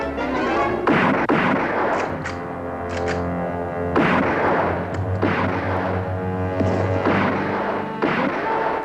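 Repeated gunshots ring out in a western shootout, several sharp loud reports spaced a second or two apart over a steady background.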